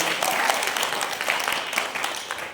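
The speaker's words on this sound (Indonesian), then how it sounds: "tepuk tangan dulu dong" Applause from an audience at an Isra Miraj religious gathering, after young performers sang selawat; steady dense clapping fills the whole stretch at moderate level with faint voices underneath.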